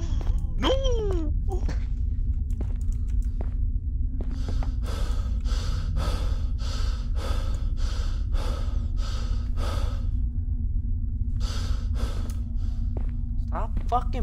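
Heavy, rapid breathing in the Roblox horror game The Mimic, with a steady run of short, rhythmic breathy bursts over a constant low game drone, close and fairly loud.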